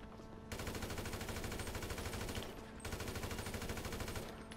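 A submachine gun fires in GTA 5 Online deathmatch in two long rapid bursts, sharp and close with a brief pause between, rattling loudly without speech.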